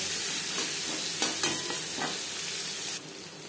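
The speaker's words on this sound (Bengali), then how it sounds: "পেঁয়াজ ভেজে নেব।" Chopped onions frying in a small amount of oil for katla kalia, a steady close sizzle with a few stirring scrapes, then the sizzle drops quieter near the end.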